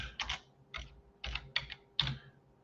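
Keystrokes on a computer keyboard, five separate clusters of clicks spread across a couple of seconds, close and fairly crisp over a quiet background hum, with no voices.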